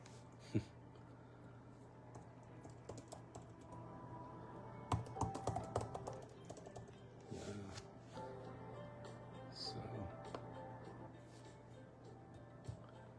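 Quiet typing on a computer keyboard, with irregular bursts of key clicks and a few louder taps over a low steady hum.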